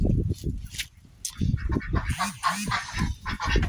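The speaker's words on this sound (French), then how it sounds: "on a toujours les canards" Ducks quacking repeatedly close by, loud nasal calls in an uneven burst, with wind noise rumbling underneath.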